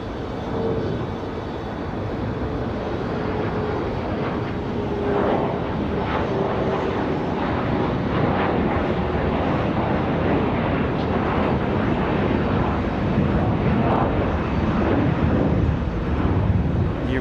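A Delta CRJ 900 regional jet at Raleigh Durham at night, a loud, close, continuous engine roar that holds steady for the whole stretch, with no talk.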